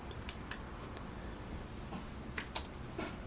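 Faint, sparse clicks of a computer keyboard being typed on while modelling in CAD software, a few quiet keystrokes with soft pauses in a still room.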